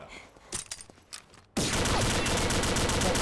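Combat Arms game grenade blasts erupt in a sudden loud, dense roar of explosion noise that follows a few scattered gunfire pops, filling the rest of the moment with sustained crackling din.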